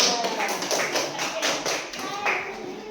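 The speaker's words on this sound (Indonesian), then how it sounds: "Tepuk tangan untuk kelompok" Fifth-grade schoolchildren clap together for a classmates' group in an Indonesian classroom. The sharp claps come in a quick, steady, patterned rhythm, with some young voices mixed in.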